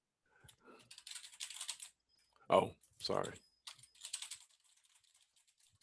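Typing on a computer keyboard in a classroom, a quick run of key clicks broken by pauses, with a person briefly speaking over it.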